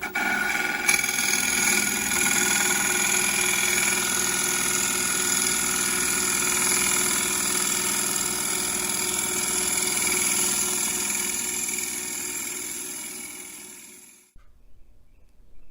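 Harvey T40 wood lathe running at 1200 rpm, a steady, loud whirring hum with tonal whine held evenly for about fourteen seconds before abruptly cutting off, leaving brief near-silence.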